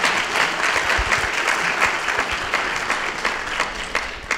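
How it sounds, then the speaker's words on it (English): An audience at a community conversation event claps steadily, a dense, even wash of applause that holds throughout without voices over it. "So you guys can clap for them because they're just amazing."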